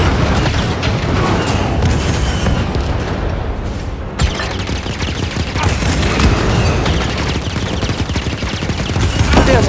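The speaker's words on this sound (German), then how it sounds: "Das sind viele Laser. Damit werden also die Kanonen abgefeuert." Laser cannons fire in the Star Wars Jedi: Fallen Order video game as loud, rapid blasts and booms run continuously, with a brief dip midway before the barrage resumes.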